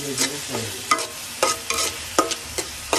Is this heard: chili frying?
yes